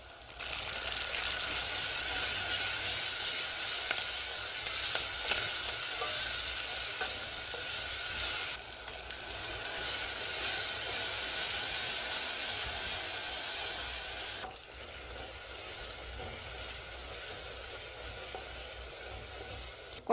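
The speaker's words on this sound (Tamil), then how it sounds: "தக்காளி சேர்த்து வதக்கலாம்." Tomatoes sautéing with onion, curry leaves and fennel for a Chettinad kuzhambu, a steady hissing sizzle in a pan with faint stirring, continuous and fairly soft, with brief breaks in level and no talking.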